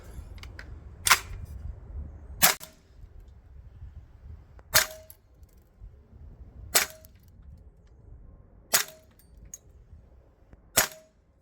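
Six sharp, snappy shots from a Savia Hi-Capa PCC gas blowback airsoft rifle running on green gas and firing 0.25 gram BBs outdoors, evenly spaced about two seconds apart, each a crisp crack with a faint mechanical clack.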